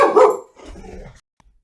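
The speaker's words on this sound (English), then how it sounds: "I had to pause my video due to some barking" A dog gives one loud, close bark, followed by a brief lower grumble before it goes quiet.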